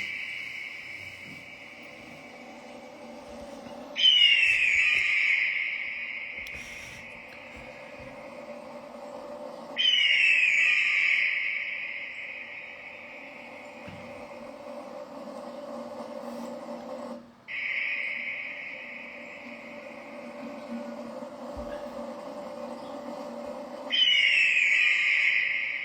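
An eagle cry repeats about every six seconds, each round a long shrill tone that breaks into descending screeches, loud and clear over a quiet, buzzing background.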